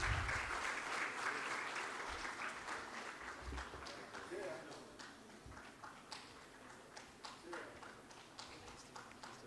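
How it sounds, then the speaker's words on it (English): Applause from a seated audience at an energy conference, fairly quiet and distant; the dense clapping gradually thins out into a few scattered, separate claps toward the end. "let's clap till he gets here"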